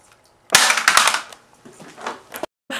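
Airsoft guns fire during a close-range backyard skirmish, a sharp burst of rapid snapping shots followed by a few scattered pops, near and loud with no talk.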